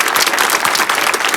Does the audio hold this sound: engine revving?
no